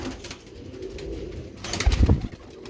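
Rampuri pigeons coo at a pigeon market in Shahdara, Lahore, with soft low murmuring throughout and a louder burst of throaty cooing near the end over a busy background hum.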